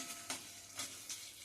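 Indian gooseberry (amla) is sautéed in a pan with a soft steady sizzle, and a spoon stirs it in a few quick scraping strokes, close and fairly quiet with no talking.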